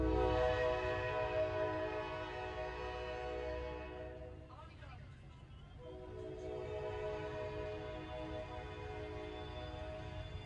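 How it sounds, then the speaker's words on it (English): A train passing through Lebanon, Tennessee, heard from a moving vehicle: a sustained, fairly faint rumble with tonal horn-like bands that briefly fade in the middle and then return. "So there's the train."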